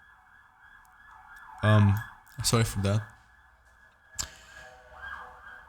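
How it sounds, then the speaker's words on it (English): An ambulance siren outside sounds as a faint, steady wailing tone that runs through the whole stretch, underneath a person talking in short bursts. "Oh my god, there's an ambulance outside."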